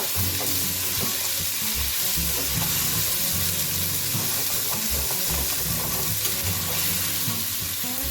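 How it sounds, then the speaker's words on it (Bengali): Tomatoes fry in a pan with a loud, continuous crackling sizzle and occasional stirring. A low tonal hum persists underneath. "টমেটো গুলো একটু হোক ফ্রাই"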